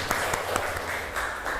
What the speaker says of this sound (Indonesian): beri tepuk tangan untuk yang